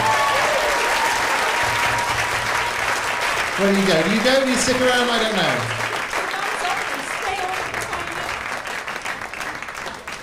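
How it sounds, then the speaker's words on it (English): A big studio audience applauds London ballroom dancers on a televised dance show, continuous dense clapping and cheering at full strength while a few voices talk over it partway through. "Ladies and gentlemen, give a big round of applause for our London Ballroom dancers."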